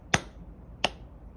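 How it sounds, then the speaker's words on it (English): Two sharp hand claps a little over half a second apart, crisp and close in a quiet room with no talking. "it turned off if you clap twice"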